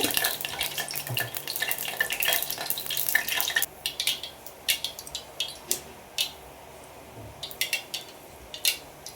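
Cumin and mustard seeds crackle in hot oil on a low flame: a busy sizzle at first, then distinct sharp pops and spurts at irregular intervals, close and fairly loud.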